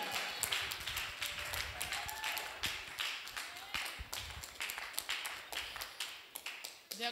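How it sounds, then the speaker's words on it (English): A church congregation claps during a prophecy service: sharp, irregular hand claps, fairly close and steady across the whole stretch, mixed with shouting voices and room noise. "Clap for Jesus."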